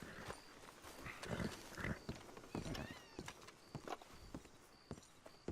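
Horse hooves clip-clop in steady bursts within an online multiplayer game, mixed with scattered game effects and some faint background chatter.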